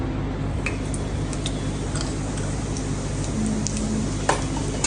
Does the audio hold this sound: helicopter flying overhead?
no